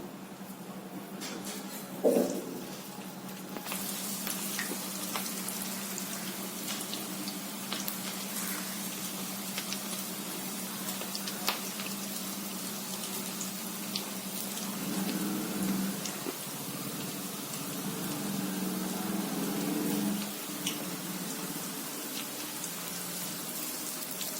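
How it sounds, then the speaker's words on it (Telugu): Cabbage pakoras deep fry in hot oil in a kadai, a steady rain-like sizzle that fills the whole stretch at moderate level with a few faint pops and no voices. "ఈ పిండితో ఇప్పుడు మనం పకోడీలు వేసుకుందాం కళాయిలో నూనె కాగే ఉంది"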